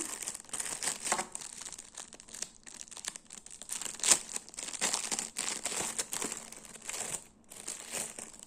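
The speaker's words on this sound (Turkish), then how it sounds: "Hediye paketine koymuşlar. Açalım." Paper gift wrapping on a boxed teddy bear being torn open and crumpled, a run of close crinkling and rustling with sharp tearing bursts, steady and fairly quiet with no voices.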